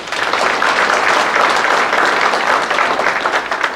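An audience at a candidate forum applauds city council candidates with a full, steady roar of clapping that holds evenly loud throughout, with no speech over it.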